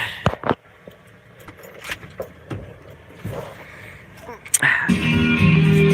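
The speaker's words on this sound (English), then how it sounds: "But I bet the keys are in the truck. And I can start the truck." Keys jangle and clink while a man gets into a 302 five-speed four-wheel-drive pickup truck with manual hubs, followed by the engine cranking and catching into a rough idle near the end.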